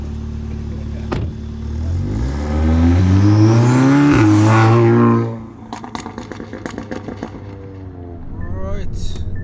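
A faulty Audi RS6 accelerates on a racetrack: the engine rises loudly in pitch through a long rev, then drops into popping, crackling exhaust bursts, with voices faintly underneath.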